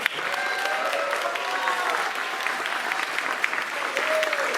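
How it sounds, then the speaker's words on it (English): Applause fills the room for the board chair at a travel club membership meeting in Hilo, a steady dense clatter of many hands held at an even level throughout, with no talk over it. "Another round of applause for Paul."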